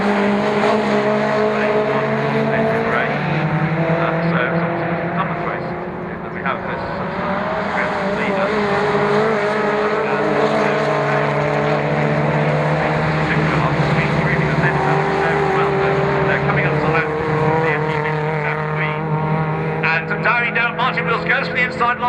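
MG race cars at Croft circuit roar loudly and steadily as they run nose to tail, engines droning and rising in pitch throughout, with a commentator talking over the noise.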